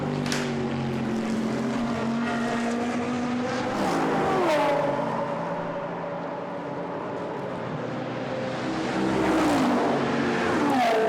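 GT race cars during free practice at Monza, engines droning past in succession with rising and falling pitch as they pass, gear changes audible, loud and sustained.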